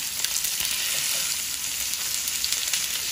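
A ribeye steak sizzles steadily in a hot pan over medium heat, a dense, loud, continuous crackle with small pops throughout and no talking.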